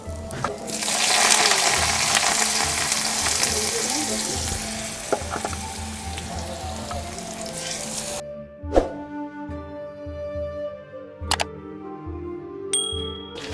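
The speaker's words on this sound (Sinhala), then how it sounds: "මේ ලියාගත්ත කොහිල දැන් අපි තෙලේ බැද්දා" Sliced kohila root frying in oil gives a loud, bubbling sizzle for about eight seconds, then stops abruptly, leaving quieter clinks, scrapes and a faint ringing tone.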